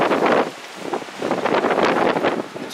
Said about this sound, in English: The wind is ferocious today